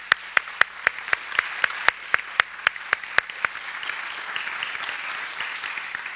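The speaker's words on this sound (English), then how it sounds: "Let's applaud them as they come down the runway" Applause at the 25th anniversary Blessing of the Peacemakers event as schoolchildren walk a runway: sharp, evenly spaced loud claps up front, then a softer wash of scattered crowd clapping.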